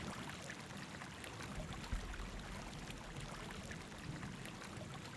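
Steady rushing of a river flowing continuously in the fantasy game Gothic 2, a dense even wash of water noise held throughout at moderate level with no voices.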